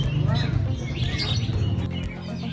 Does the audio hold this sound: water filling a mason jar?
no